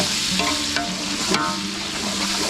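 A spoon stirs ginger garlic paste around a sizzling frying pan, with scraping strokes over a steady crackle, close by.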